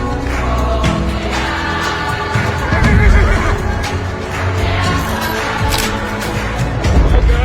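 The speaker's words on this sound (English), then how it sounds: "It's a horse traffic jam." Several horses crowded together near the pyramids in Egypt neigh and whinny repeatedly, loud and close, amid hoof clatter and a busy crowd of voices.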